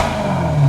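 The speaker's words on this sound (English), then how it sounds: "Rev it up a little bit." A Maserati engine with a muffler delete revs in a short, loud burst, a low rumbling drone that swells louder toward the end, heard close and alone without talk.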